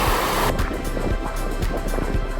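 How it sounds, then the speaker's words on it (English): A waterfall on a mountain trail around Mount St. Helens gives a steady, close, loud rush of falling water that fills the whole clip, with gusts of wind buffeting the microphone. "We found this lovely waterfall for fresh water."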